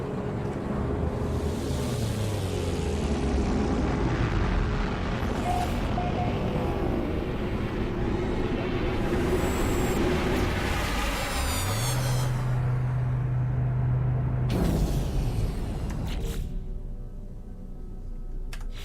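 A spaceship engine at full throttle in No Man's Sky gives a loud, steady roar with shifting, sweeping tones and a low hum that drops in pitch, before a sudden cut to a quieter drone near the end.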